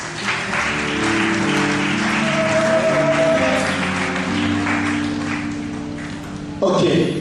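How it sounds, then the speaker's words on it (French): A church congregation claps together during a French-language sermon service, broad sustained applause mixed with voices and a held musical tone, ending with a brief louder burst. "Acclamons le Seigneur"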